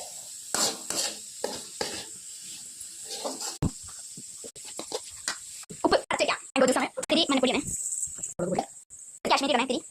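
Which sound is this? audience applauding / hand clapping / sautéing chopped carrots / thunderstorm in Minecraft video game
sautéing chopped carrots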